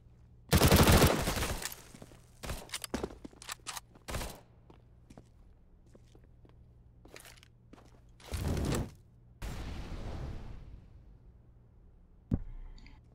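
P90 submachine gun fire in Counter-Strike comes in several sharp bursts of rapid shots, one long spray near the start and more later, with soft clicks and footsteps between and no talk.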